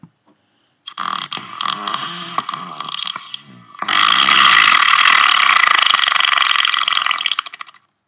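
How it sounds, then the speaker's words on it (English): A bean fart sound effect plays as one loud, wet, sputtering blast, a short rumbling burst followed by a longer buzzing stretch that fades out. "let's go ahead and hear a bean fart"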